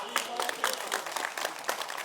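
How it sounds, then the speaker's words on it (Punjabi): A short burst of hand clapping from a few people, sharp claps arriving in a quick uneven patter, fairly faint and close, heard alone with no talking. "ਚਲੋ ਆ ਪਤਾ ਨਹੀਂ ਕਿਸੇ ਨੇ ਤਾੜੀ ਮਾਰ ਲਈ"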